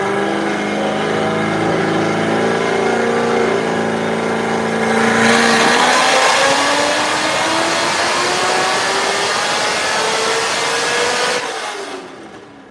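A car engine revving hard on a dyno roars loudly and close, with its pitch climbing steadily through a long sustained pull before cutting off abruptly near the end.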